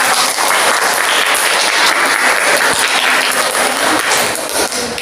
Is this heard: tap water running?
no